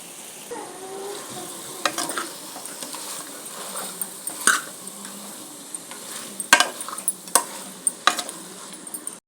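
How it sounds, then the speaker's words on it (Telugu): Pieces of cleaned goat head meat tip into a hot pan with coriander and get stirred, giving a steady low sizzle broken by sharp scraping clicks and clinks of a spoon against metal, growing busier toward the end. "ఇప్పుడు ఇందులోకి మనం ముందుగా శుభ్రం చేసి కడిగి పెట్టుకున్న తలకాయ కూర వేసేసుకుందాం."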